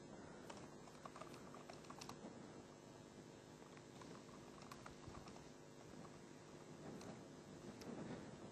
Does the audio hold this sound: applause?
no